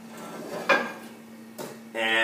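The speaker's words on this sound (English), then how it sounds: "let's get the frying pan heated up" Metal clanks as a frying pan is set down and shifted on a stove to heat, two distinct knocks followed by a louder scraping clatter, over a low steady hum.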